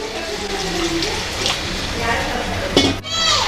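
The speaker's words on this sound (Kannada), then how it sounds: "ಸ್ವಲ್ಪ ನೀರನ್ನು ಸೇರಿಸ್ಕೊತಾ ಇದ್ದೀನಿ" Water poured into a pot of bisibele bath rice in a home kitchen, a steady broadband wash with a couple of brief splashy bursts near the end and faint clinks of the pot.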